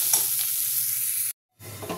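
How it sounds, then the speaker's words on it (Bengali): Chopped onion stirred and fried in oil until reddish, a steady close sizzle with soft scraping strokes, cutting out abruptly for a moment before resuming, no talking. "একটু লাল লাল করে ভাজবো"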